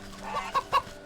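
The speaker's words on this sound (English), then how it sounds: "Chickens!" Chickens in the video game Wytchwood give a few short, soft clucks, two brief bursts close together near the end over a quiet background.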